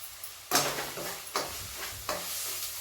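Onion and crushed peanuts sautéing in a pan, a steady sizzle broken by three distinct scraping stirs of a spoon against the pan, close and clear with no voices.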